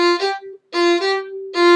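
Bowed string instrument plays measure 25 as plain eighth notes, three separate bowed phrases with brief gaps between them, close and solo without accompaniment.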